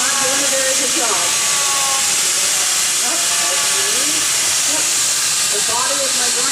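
A power carving grinder shapes wood in a workshop, giving a loud, steady high-pitched whine and hiss throughout, with someone speaking over it.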